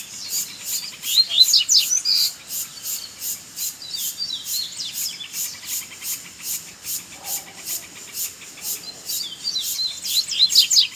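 A caged coleiro (double-collared seedeater) sings a rapid series of sharp, high chirps and trills, loud and close, with buzzing insect-like background and brief pauses between phrases.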